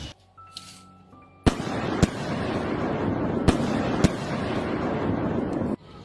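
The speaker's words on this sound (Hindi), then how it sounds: "अम्मी, बाहर पटाखे चल रहे हैं।" Firecrackers bursting outdoors: several sharp, loud bangs spaced about a second apart over a dense, continuous crackle, after a quieter opening, with a final bang before the crackle stops.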